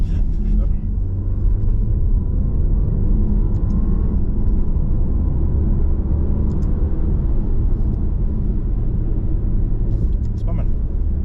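An Alfa Romeo Tonale on the move, giving a steady, loud low rumble of engine and road noise that stays even throughout, with voices faintly present.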